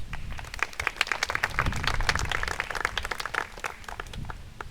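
Audience clapping at the DAR 100th anniversary, a steady dense patter of many hands that continues evenly throughout.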